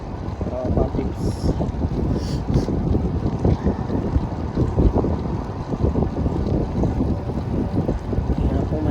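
A strong headwind buffets the microphone of a bike rider on a night-time bike lane in Doha, Qatar. The blustery roar is steady and close throughout, with someone talking over it.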